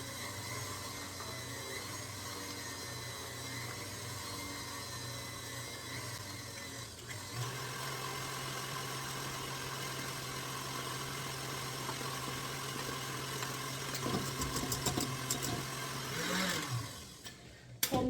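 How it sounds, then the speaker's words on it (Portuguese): An electric stand mixer runs at low speed while mixing a buttery chocolate cupcake batter, giving a steady, even motor hum with a slight shift in tone partway through and a few clinks near the end. "Pode baixar a velocidade da batedeira para acrescentar"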